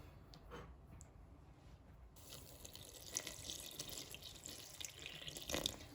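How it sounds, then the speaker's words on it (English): Quiet indoor room tone gives way to a faint, steady splashing of water poured close by into a bowl of pizza dough ingredients, with a few small clinks. "And then I'm going to add the water"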